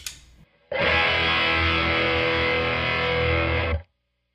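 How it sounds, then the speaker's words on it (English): Electric guitar with heavy stacked overdrive, a thick sustained distorted chord ringing loud for about three seconds before cutting off abruptly. "I'm going to have a boost or a second stage overdrive."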